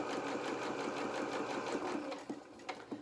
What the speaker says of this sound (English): So let's sew now towards this corner.